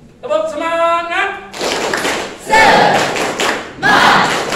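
Indonesian students do a rhythmic spirit clap routine, a group voice chanting first and then several loud bursts of collective clapping and thumping, close by.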